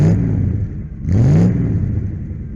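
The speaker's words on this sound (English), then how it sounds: "this time I'm going to bag a seat in this R230 SL, the V6 model" Mercedes R230 SL with its V6 engine accelerating, a mid-pitched engine note that rises in revs, eases briefly, then climbs again, heard from inside the car without talking.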